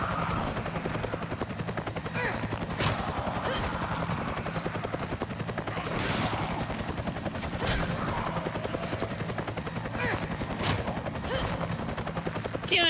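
Steady helicopter rotor drone fills the scene, with sporadic gunshot cracks and faint voices in a busy game battle.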